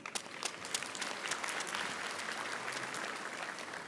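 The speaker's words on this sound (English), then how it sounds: "Give yourselves a hearty round of applause." A graduation ceremony audience breaks into sustained applause, dense rapid clapping from a large crowd filling the hall steadily throughout.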